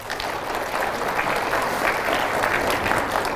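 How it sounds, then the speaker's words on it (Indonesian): A crowd applauding during an Islamic sermon by Ustadz Abdul Somad, a dense, even wash of clapping from many hands that holds steady throughout, with no talk over it. "Mana tepuk tangannya?"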